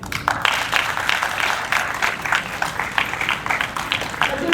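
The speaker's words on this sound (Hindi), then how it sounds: "आज मैं चाहूंगी आप बिल्कुल अपने लिए तालियां बजाइए।" Audience applause at a stage storytelling event, dense close clapping that is loud and sustained for a few seconds with faint voices mixed in.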